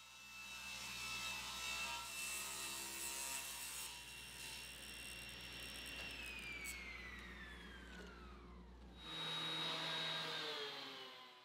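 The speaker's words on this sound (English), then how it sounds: "then I'll use the table saw to rip the board to width" A table saw rips a white oak board to width, its motor whining steadily under the rasp of the blade in the wood, then winding down in pitch as the cut ends before spinning up again briefly.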